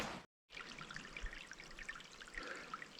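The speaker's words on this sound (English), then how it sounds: "another scenic stream" A small stream flows over rocks along a backcountry hiking trail in the Ontario mountains, with a steady, gentle trickle and babble close by after a brief silence at the start.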